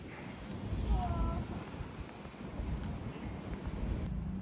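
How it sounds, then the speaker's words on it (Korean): Blizzard wind gusts during heavy snowfall, roaring and buffeting steadily close to the microphone with a broad rushing hiss, while a brief high tone briefly sounds early on. "이거 생각보다 많이 오는데? 눈보라다."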